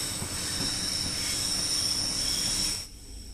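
Train wheels squeal in a high, steady shriek over rumbling rail noise in Train Sim World 2, on modern trains in Scotland. The sound is loud and close for nearly three seconds, then drops away abruptly.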